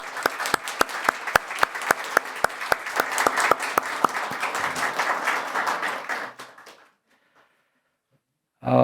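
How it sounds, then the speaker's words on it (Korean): A church congregation at a Sunday worship service applauds a new member, steady full-room clapping with sharp individual claps standing out, lasting about six seconds and fading to silence before a brief sound at the end. "우리 큰 박수로 환영을 하도록"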